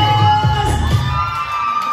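An audience at a wedding celebration hosted by a toastmaster whistles, cheers and claps for a winner in a loud, dense burst of crowd noise with shrill whistles on top.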